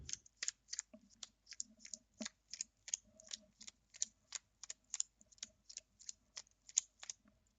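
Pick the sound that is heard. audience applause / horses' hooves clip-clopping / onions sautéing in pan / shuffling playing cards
shuffling playing cards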